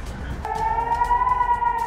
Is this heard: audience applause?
no